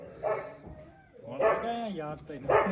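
A dog barks in a few short bursts at close range, with voices around it; the setting is a rural home yard with chickens.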